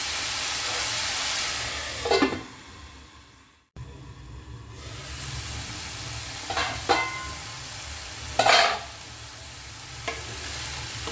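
Vegetables stir-frying in a pan for chicken fried rice: a continuous broad sizzle with several scraping stirs of the spatula, a brief drop near the start, then steady frying up close without talk.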